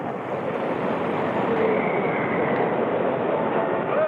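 Steady rumbling of a train in motion, a radio drama sound effect for a journey to Grantham, continuous and fairly loud throughout with no voices.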